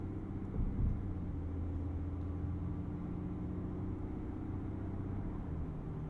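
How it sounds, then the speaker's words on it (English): Low, steady diesel engine hum from a 2022 GMC Sierra Denali Ultimate pickup with a 10-speed automatic and four-wheel drive, heard from inside the cab while driving around town, quiet and even throughout. "the diesel hums along quietly, offering just enough power for you"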